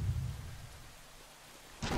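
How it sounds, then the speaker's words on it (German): A big thunderstorm in the video game Brothers: A Tale of Two Sons opens with a deep low rumble of thunder that fades, followed by a sudden loud crack of rain and thunder near the end. "großes Gewitter"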